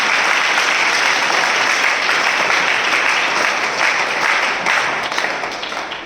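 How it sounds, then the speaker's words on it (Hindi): A church assembly congregation gives loud, sustained applause as a welcome, a dense wash of clapping from many hands that tapers off slightly near the end. "हम जोरदार तालियों से उनका स्वागत करें"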